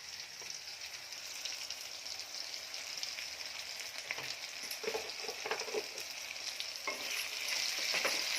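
Cumin seeds and pepper frying in oil for a tempering, a soft steady sizzle with scattered crackling pops that grow busier toward the end, no talking.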